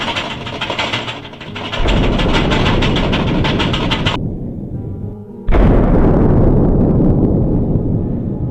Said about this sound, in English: The L-13 Orion self-detonated